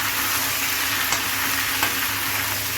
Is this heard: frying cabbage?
yes